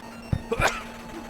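A single sharp sneeze bursts out close by during a Gunsmoke NES gameplay session at Anime North 2025, a short explosive huff followed by a brief tail, with steady background hum and no talking.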